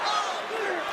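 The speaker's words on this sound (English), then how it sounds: "So the crowd absolutely loving it as these fighters work their way back to the feet." Arena crowd in the UFC 5 video game roars steadily for the full second, a dense, loud wash of cheering with no clear speech over it.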